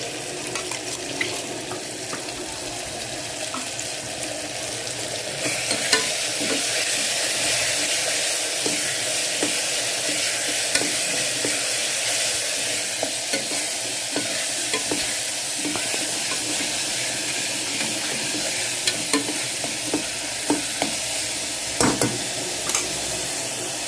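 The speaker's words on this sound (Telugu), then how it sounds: "కొబ్బరి పేస్ట్ అది కొంచెం పచ్చివాసన ఉంటుంది కదా, పచ్చివాసన పోయేంత వరకు ఫ్రై చేసుకుందాము." Ground coconut paste sizzles and fries in a pan while a spoon stirs it repeatedly, a continuous close hiss with scraping strokes and occasional sharp clinks against the pan.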